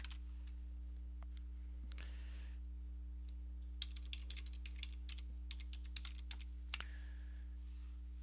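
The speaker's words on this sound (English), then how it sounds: "All you need to do is type in your email." Typing on a computer keyboard while entering an email address into a sign-up form, with bursts of quick clicky keystrokes over a steady electrical hum, close and fairly quiet, no talking.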